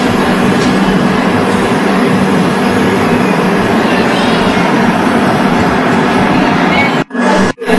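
The Cape SBC Express (16525) runs steadily at Krishnarajapuram station, heard from inside an AC compartment as a loud continuous rumble and roar that cuts out sharply near the end.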